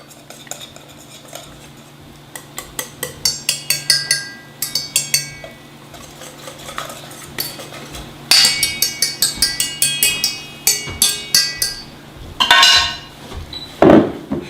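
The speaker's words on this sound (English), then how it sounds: "So you just want to whisk it up like that" A whisk beats homemade syrup for French toast in a bowl, making rapid rhythmic metallic clinking in repeated bursts with short pauses between them, close and fairly loud, without speech.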